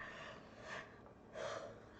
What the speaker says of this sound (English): Didn't mean to yawn all over you